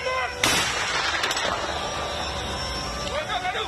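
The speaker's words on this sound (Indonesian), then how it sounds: "menguji coba meriam Howitzer 105 yang mampu menerjang target sejauh 11 hingga 13 km" A 105 mm Howitzer artillery cannon fires a single sharp, loud blast in an outdoor military exercise, followed by a long rumbling reverberation, while a news narrator talks over it.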